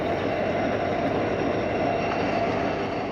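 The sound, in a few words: train hitting a derail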